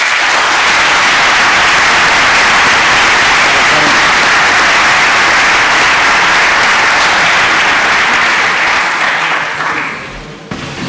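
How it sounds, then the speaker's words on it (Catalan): Loud, dense audience applause at a public presentation honoring automotive staff and students, steady sustained clapping from a large crowd that fades out near the end. "aplaudiment per a tots ells."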